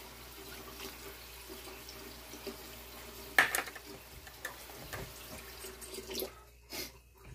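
Kitchen tap running into a sink, a steady faint rush of water with a brief clatter partway through, then cutting off near the end; no one speaks.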